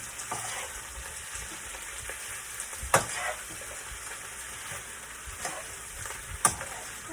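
Vegetables for a seafood pansit canton are stir-fried in a pan, giving a soft continuous sizzle punctuated by a few sharp scrapes and clanks of the spatula, no talking.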